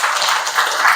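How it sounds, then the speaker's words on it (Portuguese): Audience applause for a writer at a literary talk event, a short burst of steady, close, dense clapping from a seated crowd. "mais uma salva de palmas, Agostine."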